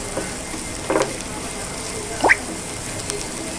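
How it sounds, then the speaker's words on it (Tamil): Onions and torn dried red chillies frying in a pan for pepper chicken, giving a steady soft sizzle with a couple of brief stirring clinks. "வெங்காயம் வதங்கிட்டு இருக்கும்போதே 2 காஞ்ச மிளகாவை பிச்சு போட்டுருங்க"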